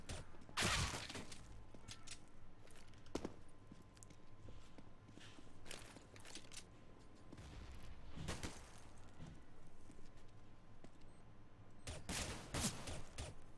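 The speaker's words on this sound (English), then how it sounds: "Bushin just firing away, not connecting anything" Gunfire in a Counter-Strike match, several sharp bursts spaced through the round, mixed with in-game footsteps and movement at moderate volume.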